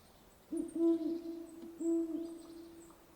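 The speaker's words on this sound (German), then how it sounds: "ich sehe schon die Eulen verwachen" Owls hoot at night in two clear, drawn-out calls, one after the other, set against a quiet, dark background.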